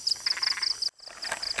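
Frogs croak from a rural hillside pond, a run of quick, rattling pulsed calls that stops abruptly for a brief moment and then resumes, heard close with no talking.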